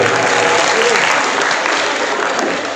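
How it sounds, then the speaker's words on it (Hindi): A crowd in Paliwal Hall applauds loudly at a National Voters' Day event held by the Firozabad district administration, dense sustained clapping that thins slightly toward the end. "जोरदार तालियां बजाएं"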